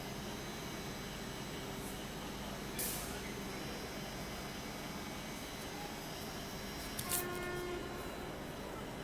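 Jabalpur–Ajmer express train departing the station in Jabalpur, a constant broad rumble of rolling rail cars with two brief higher horn or whistle bursts, heard from fairly close.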